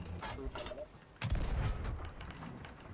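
Cannon fire booms out during a galleon-versus-galleon naval battle in a video game, a single loud low blast hitting about midway and rumbling on, with creaking ship mechanisms before it.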